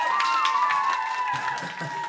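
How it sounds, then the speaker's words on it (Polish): An audience at a charity concert applauds and cheers, a continuous wash of clapping with a sustained tone and a voice over it. "Tylko panowie klaszczą."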